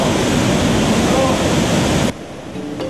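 Clear water of the Matutinaw river rushes over large rocks, a loud, dense, steady roar that cuts off abruptly to a much quieter flow.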